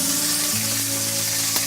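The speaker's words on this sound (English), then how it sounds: "So we're going to pop our asparagus in," Asparagus searing in a hot pan, a loud, close, continuous sizzle with a steady hiss throughout, no voices.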